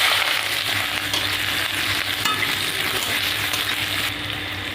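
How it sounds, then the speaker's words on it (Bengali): Chopped onion fries loudly in oil with black cumin in a wok, a dense continuous sizzle broken by scraping stirs, close up and without talk. "পেঁয়াজটা দিয়ে দেবো"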